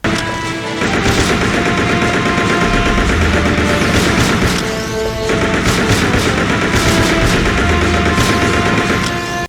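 Rapid bursts of gunfire ring out in Resident Evil Survivor 2 as roaches are shot in a lab room, with dense sustained volleys, a brief pause near the start and another around the middle.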